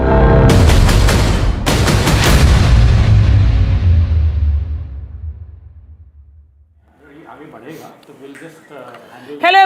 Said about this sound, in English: extensive artillery firing which has broken out